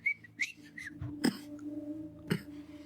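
A man whistles softly and quietly in short melodic phrases, with a couple of sharp clicks or taps between them.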